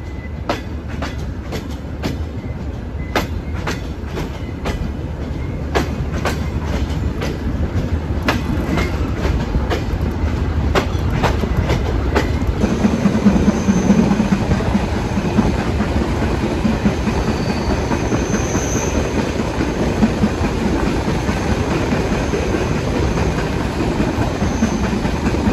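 Shimanto Express broad-gauge passenger train rolls along the tracks near Daulatpur station in Khulna, a loud steady rumble with rapid rhythmic clickety-clack wheel beats over rail joints that give way to a smoother continuous roar.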